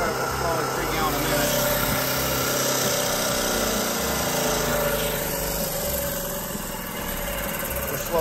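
Marine engine runs steadily through a Paragon PV32R marine transmission test after an overhaul following a U-joint failure, a continuous loud drone with gear shifts between forward, neutral and reverse, and a voice talking over it.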